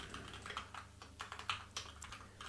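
Quiet clicks from a computer keyboard as code is deleted, short taps and brief bursts arriving in an uneven rhythm, close by and with no one talking.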